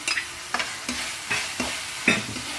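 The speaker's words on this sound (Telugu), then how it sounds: "అల్లం ఉల్లిపాయ పేస్ట్ వేసేస్తున్నాను" Ginger onion paste hitting a hot pan, sizzling steadily while a spoon stirs in repeated scraping strokes, about five or six in quick succession.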